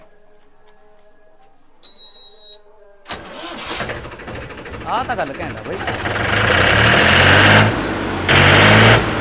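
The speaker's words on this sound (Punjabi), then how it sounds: "ਬੜਾ ਨਵਾਂ ਟਰੈਕਟਰ ਹੈ ਲੈ ਦੇਖਦੇ ਆਂ ਦੀ ਬੜਕ" A new tractor engine cranks and catches, then settles into a loud, steady rumbling idle with a few revs, while someone talks over it.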